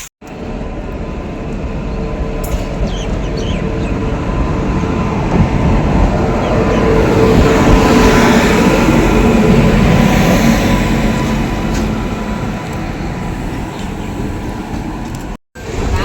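A train pulls into a crowded station on a route to Assam, its loud continuous rumble and rushing wheel noise swelling close by and then easing, with a brief cut near the end.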